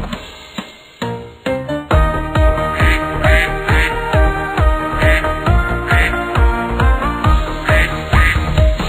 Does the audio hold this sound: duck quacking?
yes